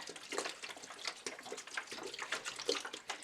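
Spring water poured from a bottle into a large pot over raisins, a splashing, gurgling stream that stays fairly faint and close, with no talk.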